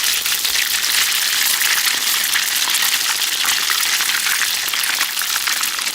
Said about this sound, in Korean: 이렇게 튀기듯이 굽는 거예요. 기름을 약간 충분하게 둬갖고.